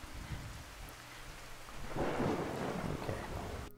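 Steady rain and a low rumble of thunder from the video game Fallout 4, a dense wash of rain noise that swells midway with a deeper rolling rumble, with no voices over it.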